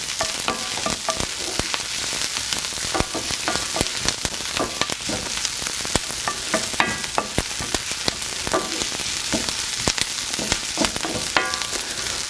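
Onions fry in oil in a pan for rice pilaf, a steady, dense sizzle close up with frequent crackles and pops and occasional stirring scrapes throughout.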